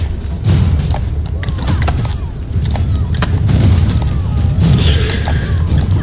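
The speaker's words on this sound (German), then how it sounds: "wenn die blöden Viecher explodieren" Monsters explode in combat in the Path of Exile video game: dense, rumbling booms and crashing impacts pile up continuously at steady loudness, with faint bits of game sound above them.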